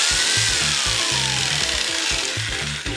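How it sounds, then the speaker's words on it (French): A loud, close jigsaw cutting metal, its blade chattering in a rapid rhythmic pattern, with a high ringing whine running throughout. "la scie sauteuse elle est bruyante"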